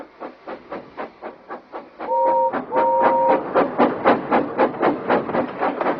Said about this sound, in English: Thomas likes to tease Gordon with his whistle